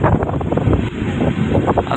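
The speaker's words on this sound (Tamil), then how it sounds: "செம்மையான காற்று." Strong wind at the Pamban bridge near Rameswaram, roaring and buffeting the microphone, loud and continuous with no talking.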